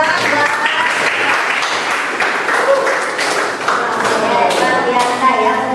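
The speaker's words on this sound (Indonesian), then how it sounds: "Tepuk tangan buat" A class of students breaks into applause, a loud, close, continuous patter of many hands lasting several seconds, with a few thumps and voices mixed in.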